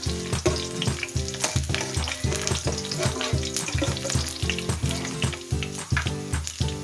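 Ginger sizzles steadily in a hot pan while chicken adobo is being cooked, a dense, loud crackle with frequent sharp pops and scraping stirs throughout, no voices.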